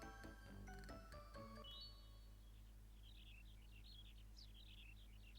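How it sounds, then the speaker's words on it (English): Ambient birdsong from the video game Chocobo Stallion: after a few brief chiming tones, soft, scattered chirps repeat faintly over a low steady background. "as you can hear it in there, it's just birds chirping"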